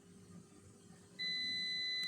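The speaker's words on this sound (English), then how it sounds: "my air fryer beeping." An air fryer beeps at the end of its cooking cycle for a chicken and Monterey Jack quesadilla, a steady, high electronic tone that starts suddenly and holds, loud and close over faint room noise.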